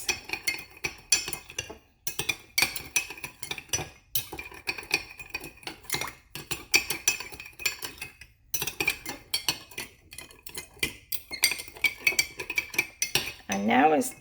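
A utensil clinks and scrapes rhythmically against a bowl while calamari and tuna poke is tossed with sesame oil, brisk close mixing strokes with brief pauses, no talking.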